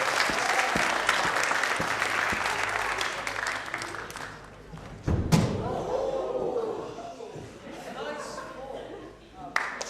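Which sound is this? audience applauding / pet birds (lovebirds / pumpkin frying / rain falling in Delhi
audience applauding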